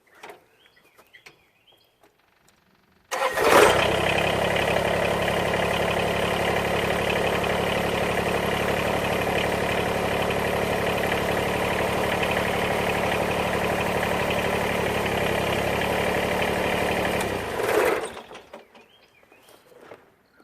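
A Kubota BX tractor starts abruptly and runs at a steady, loud, even mechanical drone for about fourteen seconds, then cuts off, with quiet clicks before and after.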